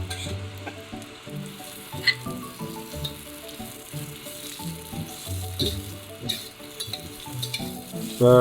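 Ginger and shallots stir-fry in a wok over high heat for ginger and scallion crab, giving a continuous loud sizzle with scraping stirring noises and faint background music.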